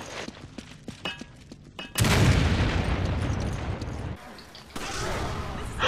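A grenade explodes in the video game Resident Evil 5 with a sudden loud blast, followed by a few seconds of dense, roaring rumble that fades and then swells again.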